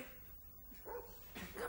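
A dog barks faintly two or three times in short bursts during play with a stick, sounding distant and quiet against a low background hiss.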